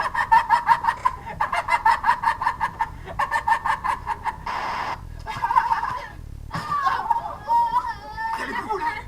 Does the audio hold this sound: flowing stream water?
no